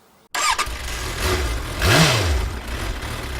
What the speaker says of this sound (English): today I'm putting a baffle on my exhaust